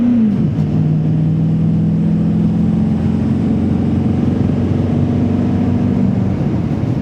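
A Chevrolet GMT 900 3500 dually pickup with the LML Duramax 6.6-litre V8 diesel accelerates, a loud, steady droning engine note that dips after a brief shift then holds a strong even pull, with no talking.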